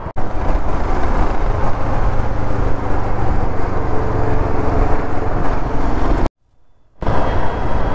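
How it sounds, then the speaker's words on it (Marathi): Dense, continuous road traffic roars through Pune city streets while riding a vehicle through the traffic, loud and close throughout, with one brief dropout to near silence before the noise returns. "हे आता ट्रॅफिक कापत चाललो आहे आपण."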